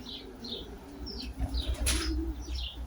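Pigeons in a loft flap their wings in repeated bursts close by, with soft chirps and coos woven through a low background rumble.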